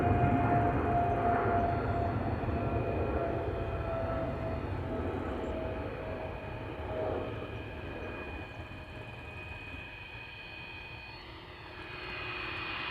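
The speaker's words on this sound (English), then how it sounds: "Emirates flight 146 going to Dubai. Just took off from center." An Emirates airliner takes off at Amsterdam Schiphol, a loud jet engine roar with whining tones that slowly fades as it climbs away, then swells slightly again near the end, no voices.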